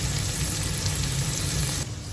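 Steak frying in a hot pan makes a loud, dense, continuous sizzle that holds steady before dropping off sharply near the end.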